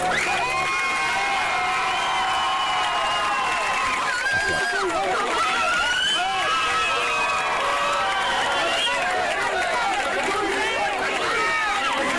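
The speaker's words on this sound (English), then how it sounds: "giving a big round of applause for the 300th" A crowd cheers and shouts loudly for a high school coach's 300th career win, with chatter and children's yells filling a steady, busy roar; distinct clapping is hard to pick out.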